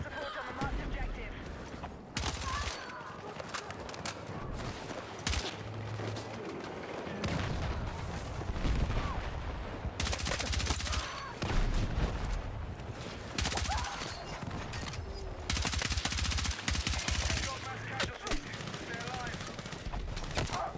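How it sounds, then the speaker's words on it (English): Gunfire in the shooter Battlefield 6, with rapid bursts and scattered sharp reports, likely including sniper shots, cracking amid a dense, noisy battle mix that persists throughout. "Wait, was that a sniper right there?"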